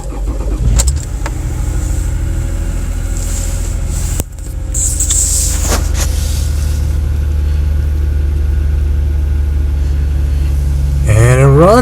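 A 2007 Toyota Sienna with 84,000 miles cold-starts in a blizzard: a short crank catches into a loud, steady idle that hums on, then rises briefly in pitch near the end.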